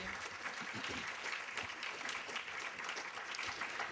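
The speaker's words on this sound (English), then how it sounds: "Can you please give them a round of applause?" An audience at a conference claps for the panelists, an even, continuous patter of many hands heard at a moderate distance, steady from start to finish with no voices on top.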